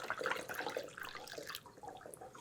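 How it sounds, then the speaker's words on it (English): Vinegar pours into a 16-ounce plastic spray bottle for homemade glass cleaner, a quiet gurgling trickle of liquid that fades out after about a second and a half, heard close up. "I'm gonna add 1/3 cup of vinegar"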